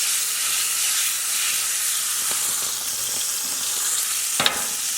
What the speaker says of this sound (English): For like 30 seconds, cook the garlic because you don't want it to burn.